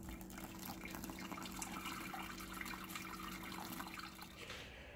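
Boiling water poured steadily over steeping grains to sparge them for a homebrewed Mandarin IPA, a continuous close splashing, trickling stream that runs unbroken for about four and a half seconds before tapering off.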